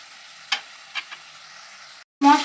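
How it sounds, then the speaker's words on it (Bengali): Spice paste with slit green chillies frying for a sour mourala fish curry with raw mango, a soft steady sizzle with a few light stirring knocks, then a short gap and a louder burst at the end. "একটু কষিয়ে নিচ্ছি।"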